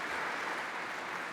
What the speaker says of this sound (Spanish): por favor, lo recibimos con un fuerte aplauso.